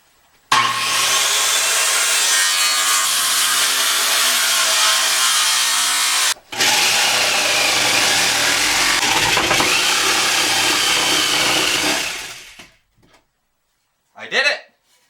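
A saw cuts through a wooden stud in a non-structural wall during a master shower renovation, giving a loud, steady rasp for about twelve seconds with one brief break, then stopping, followed by a short final burst.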